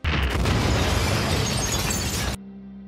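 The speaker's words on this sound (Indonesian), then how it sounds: "Dipastikan Prita tewas di tempat akibat ledakan ini." A sudden explosion in a film scene bursts loud and close with a dense, crackling roar that holds for over two seconds, then cuts abruptly to a low hum.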